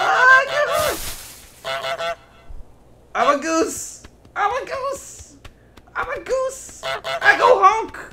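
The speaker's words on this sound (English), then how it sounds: "I'm a goose! I go honk!" Repeated goose honks from Untitled Goose Game in short bursts, several loud squawky calls spaced across the clip with pauses between, close and clear.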